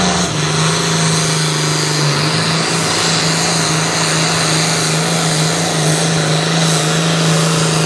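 Tractor engine at a tractor pull, a loud, sustained droning roar with a strong steady low tone and heavy broadband noise, holding at high revs without pause.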